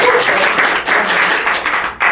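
Audience applause for a comedy talk show guest's pop song, a steady wash of many hands clapping for about two seconds, fairly loud and close.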